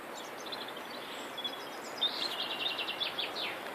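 Faint high chirps and twittering birdsong drift over a steady wash of waterfall noise, like distant birds in a forest near Gökçedere waterfall in Yalova, Turkey.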